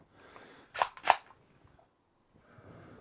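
Hammer being cocked on a Metal Gear Solid replica pistol, two sharp close metallic clicks in quick succession in a quiet room.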